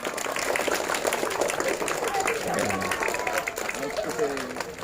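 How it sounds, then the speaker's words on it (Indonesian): An elementary school audience at a literacy award ceremony applauds in a steady, moderately distant wash of clapping, with voices murmuring underneath. "Tepuk tangannya."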